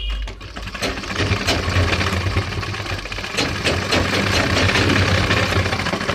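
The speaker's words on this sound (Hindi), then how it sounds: "तो देखिएगा पहले हम यहाँ तक सिलाई करते हैं।" A sewing machine stitches a gents kurta with a fast, steady mechanical chatter, close and continuous, with a few sharper clicks running through the whir.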